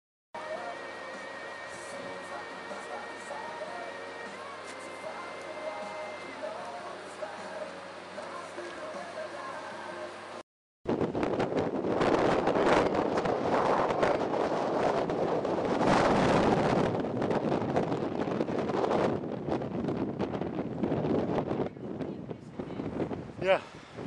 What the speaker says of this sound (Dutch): Wat een wind, hè, schat?